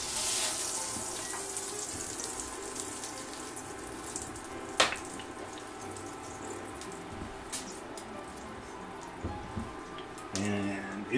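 Burger patties, one topped with two slices of American cheese, hiss faintly on a hot cooking surface as they go down, a soft watery sizzle with a few small pops and a brief louder burst near the end.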